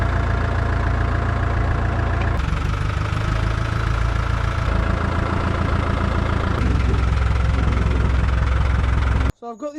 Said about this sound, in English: let's get that put on the tractor so we can tow it out of here.